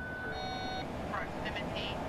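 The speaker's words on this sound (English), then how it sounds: "An alarm suddenly gets everyone's attention." Proximity warning alarm in the cockpit of a US Air Force Boeing C-17 Globemaster III, sounding as a brief steady electronic tone and then short beeping chimes over constant engine drone, with voices talking.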